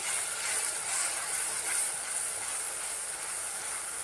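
Masala spice mix with turmeric, salt, kitchen king masala and homemade chilli powder roasts in a pan, giving a steady, close, even sizzling hiss with no breaks.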